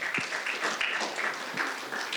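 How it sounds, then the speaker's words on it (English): Conference audience at an intellectual property and technology session claps for an award winner, a faint, distant spatter of hands through a quiet hall. "Let's give her a big round of applause."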